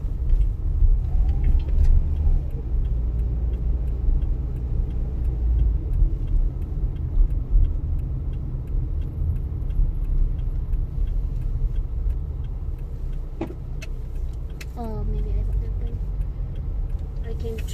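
Steady low rumble of a car's engine and road noise from inside the cabin during a mock driving test in Australia, with a few faint ticks like an indicator near the end.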